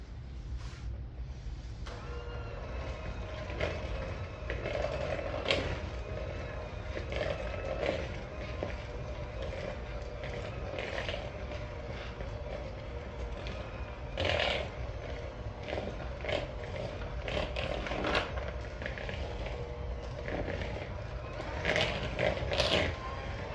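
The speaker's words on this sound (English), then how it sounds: "Now I've got my handy dandy mixer." Electric mixer beating a thick, chunky gluten-free Brazilian cheese bread dough made with olive oil, a continuous low motor whir with uneven knocking and bumping as the dough churns, steady and close throughout with no talking.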